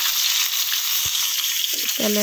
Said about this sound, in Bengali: তেল গরম হওয়ার পরে দিয়ে দিলাম তোমার পেঁয়াজ কুচি